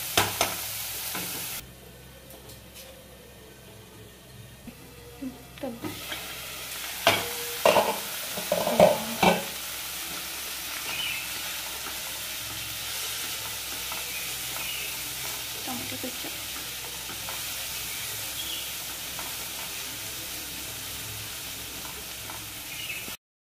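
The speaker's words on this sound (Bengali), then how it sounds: "নেড়ে চেড়ে ভালো করে এগুলোকে ভেজে নিচ্ছি।" Corn kernels fry and get stirred in a pan, with a steady sizzle running throughout and a few louder scraping stirs near the middle. Quieter frying continues alone to the end.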